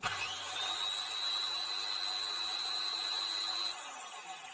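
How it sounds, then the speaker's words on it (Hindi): An electric drill machine switches on and runs with a steady high whine for several seconds before winding down, heard alone with no talk. "अब यहाँ पे मैं ड्रिल मशीन को ऑन करूंगा"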